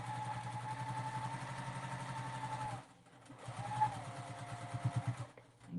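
A home sewing machine stitches fabric for a quilted flatmate pouch, running in two steady bursts with a brief pause between, its rapid mechanical whir close and continuous, ending in a few uneven stitches.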